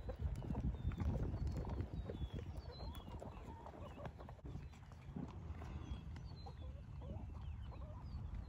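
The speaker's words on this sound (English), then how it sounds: "Faithful LGDs right here, our livestock guardian donkeys." Livestock guardian donkeys walk on a farm, their hooves clip-clopping in a steady, moderately close rhythm over a continuous outdoor background with birds and fowl faintly audible.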